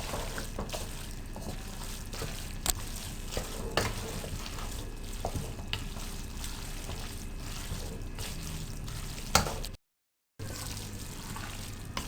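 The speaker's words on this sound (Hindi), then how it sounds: "इसको अच्छी तरह से मिक्स कर लें" A chicken spaghetti mixture is stirred in a pan, with a steady low sizzle and scattered scrapes and clicks of the utensil, broken by a brief silent gap near the end.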